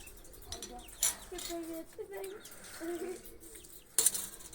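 Pigeons take off with two sharp bursts of flapping wings about three seconds apart, over quiet outdoor background with soft cooing between them.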